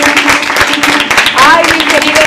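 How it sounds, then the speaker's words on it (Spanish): A studio audience on a variety talent program claps steadily throughout, dense hand-clapping with a host's voice and a few shouts rising over it. "¡Un fuerte aplauso!"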